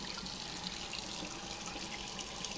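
Hot water runs from a kitchen tap into a measuring cup for soft pretzel dough, a steady hissing splash that continues evenly at close range with no talk.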